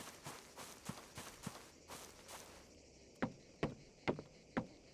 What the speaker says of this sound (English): I just heard a large footstep.